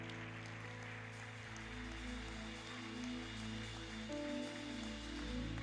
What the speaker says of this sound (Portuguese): Você pode aplaudir mais forte para o Senhor Jesus